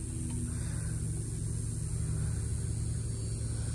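A Yamaha TTR-110 dirt bike engine runs steadily at a constant buzzing drone, close and continuous, with no talk.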